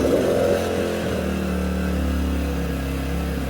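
A portable generator engine, started with a pull cord, runs at a steady idle after an initial rev, a continuous mid-pitched mechanical drone close by with no talking.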